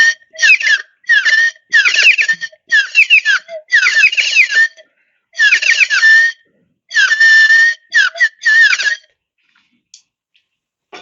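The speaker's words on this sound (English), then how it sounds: "So here's the wizard." Ceramic glaze-fired water whistle in the shape of a wizard, filled with water and blown in a series of about eight warbling, bubbling bursts with short gaps between, fairly loud and close, ending in silence.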